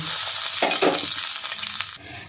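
Hot oil sizzles steadily in a pan on a home stove for a Bengali fish-and-cauliflower dish, a loud, dense hiss with a couple of brief stirring bursts before it cuts off abruptly near the end.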